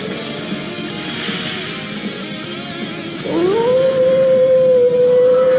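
Wolf howl in the Trails into Reverie video game, one long sustained loud tone rising in pitch and then holding steady, coming in over a rumbling game background.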